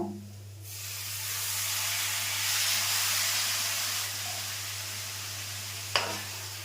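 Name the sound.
water added to frying soybean ghugni, sizzling and steaming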